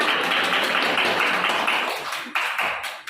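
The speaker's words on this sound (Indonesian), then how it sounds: "Oke, tepuk tangan untuk kita semua." Dense group applause from a gathering of students, a thick wash of overlapping claps that stays strong, then thins and breaks into a few scattered final claps.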